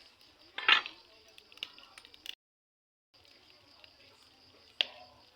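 A non-stick pan set down on a kitchen stove makes a sharp metallic clink, then faint scrapes and a second clink as it is balanced, all quiet and close.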